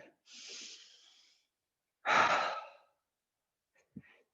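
Breathing during a yoga session: a long soft exhale, then a stronger breathy exhale through the mouth, and a brief faint snort-like breath at the end, close and alone in silence.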